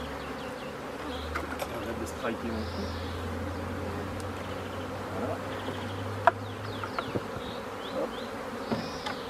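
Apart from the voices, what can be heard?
honey bees buzzing around a beehive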